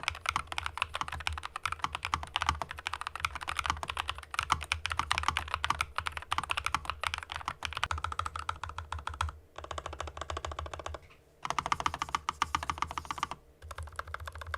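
Rapid typing on a NuPhy Air60 V2 low-profile mechanical keyboard with foam under the plate and silicone under the spacebar. Fast, steady clacking key presses with a couple of brief pauses, soft and close.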